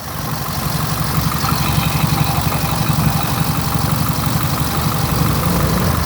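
A 2014–2015 Hyundai i10 car engine idles steadily at close range, a low, even rumble with a faint regular pulse that holds for several seconds without any voices.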